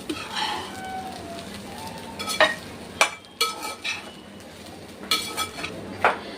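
A utensil stirs cooked rice seasoned with black pepper powder in a pan, giving several sharp scraping and clinking strokes at uneven intervals over a soft background hiss, close and moderately loud.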